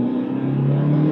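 Revving engine of a 2007 Ferrari F430 held at steady pitch during a paddle-shift downshift into first gear, a loud close drone that dips slightly in tone partway through.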